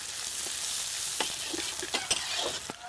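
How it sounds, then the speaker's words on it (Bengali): Onions hit hot mustard oil with cumin and a bay leaf, giving a close, steady sizzle broken by several scraping stirs toward the end, with no talk. "এখন দিয়ে দিচ্ছি পেঁয়াজ পেঁয়াজটাকে এখন ভেজে নেব"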